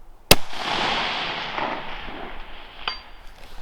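A single sharp, loud crack from a Savage Axis II Precision .223 bolt action rifle, followed by a decaying outdoor echo and a faint distant ping of the round striking a steel target.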